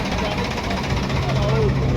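A tractor engine runs steadily nearby with a low, continuous rumble and faint knocking pulse, under a background of voices and crowd noise.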